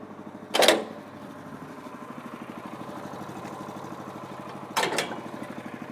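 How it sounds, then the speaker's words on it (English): An Athena 850 HE aerial work platform runs with a steady, fast-pulsing engine drone, broken by two short, loud hissing bursts about four seconds apart, with no talk. "we'll start the machine, push the auto leveling function, which is the raise function, and the machine will level itself"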